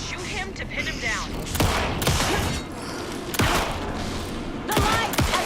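Repeated gunfire in the Alan Wake 2 video game, volleys of sharp shots cracking in bursts amid a busy combat mix, loud and close, with voices talking over the action.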